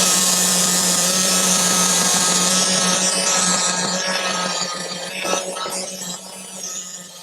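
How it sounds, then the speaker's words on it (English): Bottoms of small diorama building pieces being sanded level produce a loud, steady, continuous rasping scrape under a constant low hum, easing off slightly toward the end. "I'm gonna now just sand the bottom of these to try and get them a little bit level."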